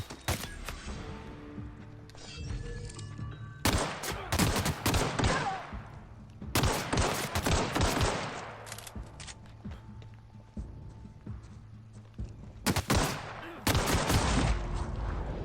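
Gunfire in the video game The Outer Worlds, several sharp bursts of shots and impacts at irregular intervals, loud and close, with game ambience between them.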